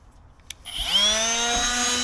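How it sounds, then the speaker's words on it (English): A sander fitted with P320 sandpaper roughs up a varnished wooden boat tiller. After a small knock, the motor spins up to a steady, fairly loud whine close by. "I've got some P320 on there. I'm just going to rough this up because it's pretty sound, so it gives you a good surface to re-varnish on top of."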